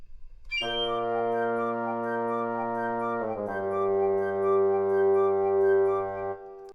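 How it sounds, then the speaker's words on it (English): Several wind instruments hold a sustained chord together, shifting to a new chord midway, steady and full with no talking. "Woodwind altogether sound like this."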